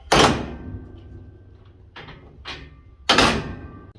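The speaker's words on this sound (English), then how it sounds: "And simple, to close it, just slam it shut." A steel Arrowquip Q-Catch 54 cattle chute gate slams shut with a loud, close metallic bang, followed by lighter clanks and a second heavy slam.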